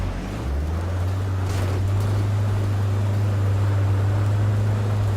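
A vehicle in the video game H1Z1 drives with a loud, steady low engine drone and constant rushing noise, holding one even pitch throughout.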